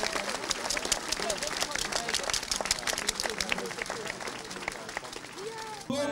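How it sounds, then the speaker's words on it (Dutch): A crowd claps steadily and continuously, with a general hubbub of voices mixed in throughout. "We hebben al een klein applaus gehoord"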